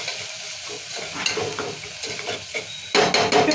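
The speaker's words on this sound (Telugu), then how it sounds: "ఉప్పు కూడా వేసి కలుపుతున్నా" Salt being stirred into a thick tomato masala in a pan for mutton paya curry, a steady sizzle with repeated scraping strokes of the spoon, growing louder and busier near the end; no voices.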